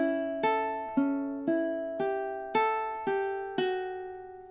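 Ukulele playing measure 18 of a song: about eight plucked notes in an even, unhurried rhythm, each ringing briefly before the next, close and fairly quiet, with no voices.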